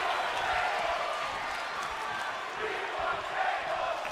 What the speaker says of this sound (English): turn down the crowd just a little bit because they can get very, very rowdy